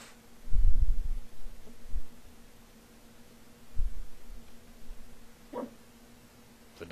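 A dog in Final Fantasy III gives a few short, low barks, spaced irregularly near the start and middle, over a quiet steady hum, with a faint sharp chirp near the end.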